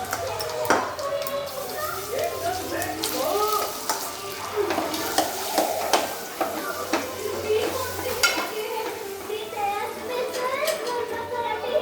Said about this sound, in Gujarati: તેલમાં ખાલી આખું જીરું અને હિંગ તેનો વઘાર કરવાનો છે